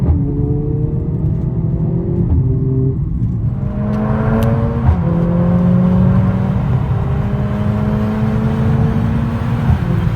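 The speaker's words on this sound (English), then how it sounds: "that is the sound of a 2-liter turbo petrol engine producing" A 2023 Mercedes-AMG A45 S with a 2-litre turbo petrol engine revs hard through the gears, loud and close, its rising pitch dropping sharply at each shift before climbing again.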